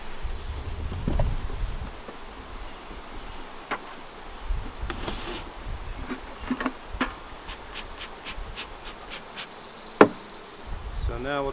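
Honey bees drone steadily in and around a hive while a colony is split, with a constant buzzing bed, occasional wind rumble and a few sharp knocks and clicks of frames being handled.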